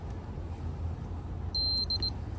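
A continuity tester gives a short high-pitched electronic beep, then a few quick broken beeps, over a steady low background hum, while checking for electrical draw on a 2005 Chevy Colorado.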